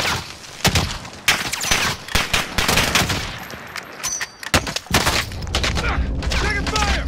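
Warzone gunfire erupting in rapid bursts, a mix of sharp close shots and scattered exchanges with thuds, irregular and loud throughout with some voices in the background.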